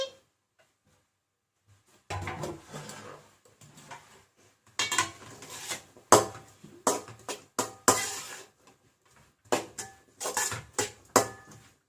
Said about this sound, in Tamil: வெங்காயத்தை போட்டு கிளறி